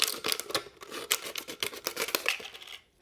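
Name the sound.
scissors cutting a plastic water bottle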